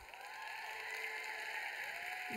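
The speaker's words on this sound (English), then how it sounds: "We all need to give them a big round of applause." An audience at a business presentation gives a round of applause, a steady crackle of clapping heard behind sustained music tones and a whistling sweep, fairly even in level throughout.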